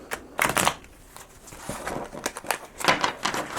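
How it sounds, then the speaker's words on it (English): A deck of linen-paper tarot cards is shuffled up close in several brisk, crisp bursts of riffling and sliding, with no talking. "But it shuffles super nice."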